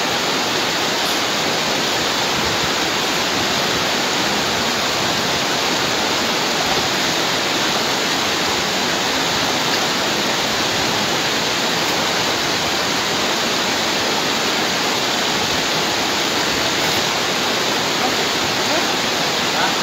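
A river current flowing steadily during cast net fishing, a dense, constant roar of rushing water that stays loud and unchanging throughout, with no voices.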